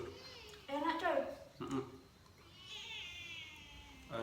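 A cat meows close by beside diners at a grilled chicken eatery, a couple of drawn-out, rising meows with quiet room sound between them.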